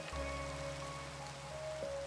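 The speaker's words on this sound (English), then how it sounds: "Let's get rid of this rain." Steady, faint rain patters continuously in Minecraft, a soft even wash of falling drops with a faint low hum beneath and no speech.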